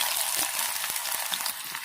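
Cumin and mustard seeds for tempering sizzle and crackle steadily in hot oil in a pan, a dense, close frying hiss with small scattered pops and no talking.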